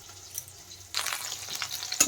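Rohu fish pieces frying in hot oil for doi rui, a quiet low hum at first, then a steady close sizzle that swells abruptly partway through and keeps crackling, with a sharp clatter near the end.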